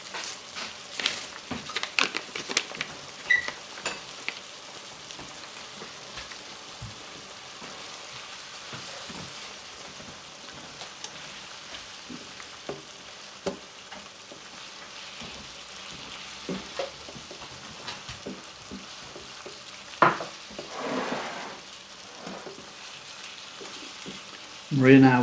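Taco seasoning, hot variety, stirred into meat for creamy taco macaroni, sizzling steadily in a pan with scattered scraping clicks of the spoon, close and fairly quiet throughout, a few louder scrapes near the end.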